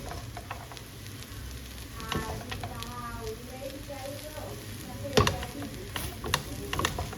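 Chow mein with chicken being stirred and fried in a pan at a street food stall, a steady sizzle broken by scraping and clanking of a utensil against the metal, close and fairly loud.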